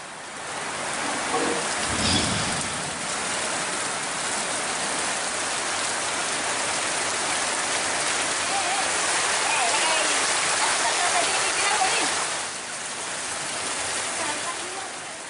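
Heavy monsoon rain around Kolhapur, a loud, unbroken wash of broadband rushing noise that swells slightly near the start and eases toward the end.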